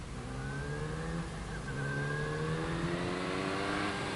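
A 1980 Kawasaki KZ550 LTD motorcycle engine running steadily, with a continuous tone that rises slightly in pitch as it revs, moderately loud with no talk.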